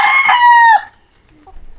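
A loud rooster crow rings out close by, a single drawn-out call that cuts off abruptly, followed by near silence.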